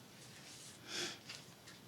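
A person doing a paper craft project sniffles once, a short, faint, breathy nasal intake near the middle, followed by a softer second sniff, in a quiet room.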